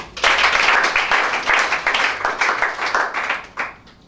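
Church congregation clapping together in praise of Shaddai, a loud, dense, rhythmic round of applause that fades near the end.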